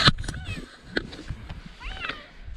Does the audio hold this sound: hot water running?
no